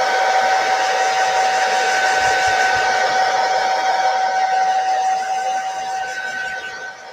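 A hair dryer quick-dries a painted 10-inch round wood sign, its steady whining blow running loud and continuous before easing off slightly at the end.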